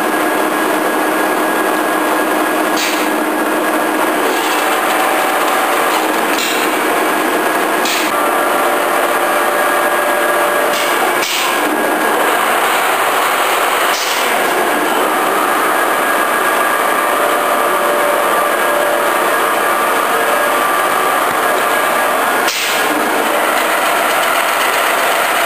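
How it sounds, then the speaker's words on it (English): A table-type horizontal boring mill feeds its 5-inch spindle outward, giving a steady mechanical whir and hum with faint intermittent clicks, fairly loud and continuous throughout, with no talking. "Right now we're showing the 5-inch spindle feeding out."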